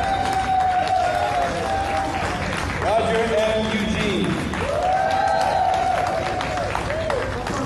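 Audience applause at a band's 55th anniversary celebration, a continuous crowd clapping and cheering bed under loud talk and sung or shouted voices throughout.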